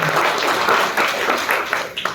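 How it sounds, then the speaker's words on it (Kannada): Crowd applause at a BJP membership campaign event in Dasarahalli, a dense, steady wash of many hands clapping, loud and sustained for the whole stretch before tapering slightly at the end. "ಹೊಡೀರಿ ಗಂಗಾಗು ಅಂತ ಚಪ್ಪಾಳೆ"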